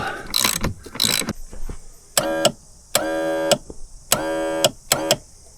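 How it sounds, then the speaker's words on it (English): A ratchet wrench tightens the mounting bolts of a Parsun 60hp four-stroke outboard onto a boat transom, heard as several clear bursts of rapid clicking separated by short pauses, close and loud, after a few brief knocks. "Just tighten up these bolts temporarily"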